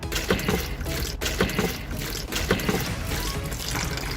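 Foul, rotten water spilling and splashing out all at once, a steady wet gush over busy background noise, fairly loud and close throughout.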